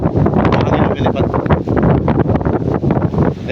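Strong wind buffets the microphone on a beach, a loud continuous roar with gusty surges and no clear voices.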